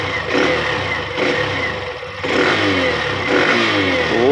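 A Hero Xtreme 125R motorcycle engine is revved repeatedly up from idle, with rising and falling surges of mid-pitched engine roar heard close and loud, with no talking.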